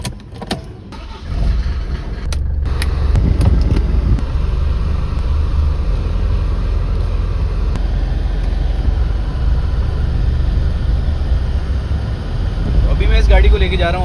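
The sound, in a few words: diesel car being driven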